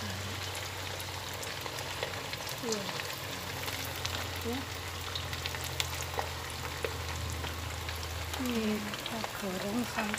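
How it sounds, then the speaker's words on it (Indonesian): Jadah tetel dough frying in a pan of hot oil, a continuous dense sizzle with occasional louder pops and crackles running under a voice as she speaks intermittently. "goreng sampai matang"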